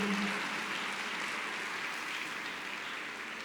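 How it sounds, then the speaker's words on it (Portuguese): Church congregation clapping in praise, a soft, even roar of many hands heard from some distance, steady and gradually fading, with no voices over it. "Dá uma salva de palmas ao Senhor"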